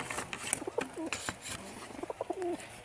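Pigeons in a breeder cage give soft, repeated coos and warbling calls, close by, with light shuffling and pattering between the calls.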